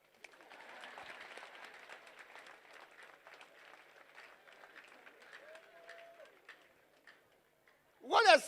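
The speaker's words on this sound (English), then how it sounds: "Clap for me." Audience clapping at a director's speech, a dense patter of many hands running steadily for several seconds, fading toward the end before a brief loud burst of voice or cheering.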